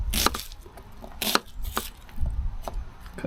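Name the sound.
knife chopping yellow onion into squares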